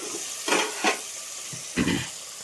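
Chopped tomatoes sizzle in hot oil tempering with curry leaves, as a few bursts of spattering and stirring rise and fade over a low, steady frying hiss.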